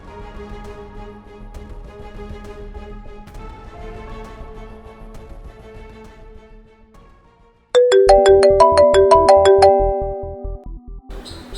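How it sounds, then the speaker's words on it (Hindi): A melodic phone ringtone begins abruptly after quiet background music, playing a bright repeating tune loudly for a few seconds before fading. "तेरे बेटे का फोन आ रहा है"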